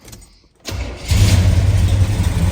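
A 1974 Chevrolet El Camino with a 454 big block V8 cranks briefly after a quiet pause, then catches and settles into a loud, steady, deep idle up close.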